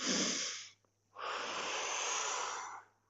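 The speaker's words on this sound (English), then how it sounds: "Inhale and exhale." Forceful breaths pushed out during a slow guided exercise, two long hissing exhalations close to the mic, the first about three-quarters of a second and the second nearly two seconds, separated by a short quiet pause.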